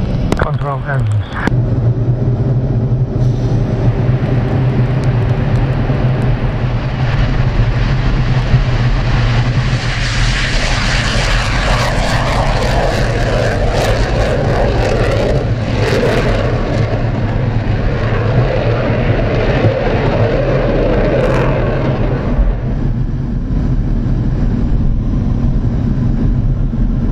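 The engines of a MiG-29 jet spool up in the cockpit to a loud, steady roar with a low drone and a rising broadband whine. A pilot's voice can be heard through the noise near the start.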